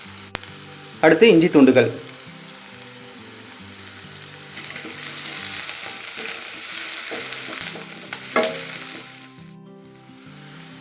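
Onion, curry leaves and dried red chilies frying in oil, a steady close sizzle with stirring scrapes, a brief burst of talk near the start and a louder spitting crackle midway before it fades.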